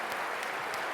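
Brief burst of applause from an audience at a gathering, a short continuous patter of many hands clapping, moderately faint and lasting only a moment.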